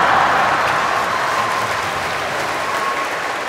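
Audience applause at a seminar, a loud sustained wash of clapping from a crowded hall that holds steady and eases slightly toward the end, with no speech over it.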